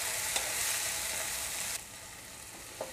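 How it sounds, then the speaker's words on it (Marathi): Onion, tomato and spices such as turmeric and garam masala sauté in a pan with a bright, even hiss that drops to a softer sizzle partway through, with an occasional faint scrape. "मसाले, कांदा, टोमॅटो मी व्यवस्थित परतून घेतलं एक मिनिटभर"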